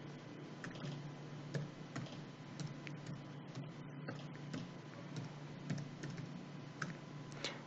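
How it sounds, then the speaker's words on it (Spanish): Soft, rapid clicking of computer keys as a Wi-Fi password is entered, an irregular patter of light taps over a steady low hum, faint and close with no speech. "Una vez que yo escribo la contraseña"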